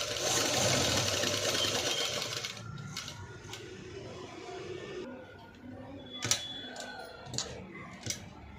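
A sewing machine runs steadily at close range for about two and a half seconds, doing close inner stitching along the neckline of a patchwork blouse with a samosa-style design. It is followed by quieter pauses and a few sharp ticks and clicks of the machine.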